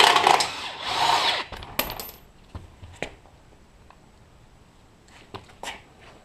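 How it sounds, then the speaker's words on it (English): An impact wrench removing bumper bolts on a second-generation Dodge Ram, a loud whirring burst at the start followed by sharp metallic clinks and taps, close and without speech. "So let's grab my impact and get those off."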